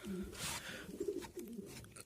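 A slightly sick homing pigeon inside a loft gives a quiet, low, throaty coo that rises and falls in two or three soft phrases, close but faint, with no voices.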